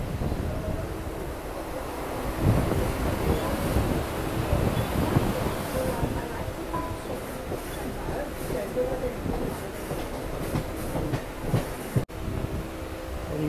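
A local train on the Karjat to Khopoli line pulls into Khopoli station, with a loud, continuous rumble of wheels and carriages mixed with gusty wind noise close to the microphone.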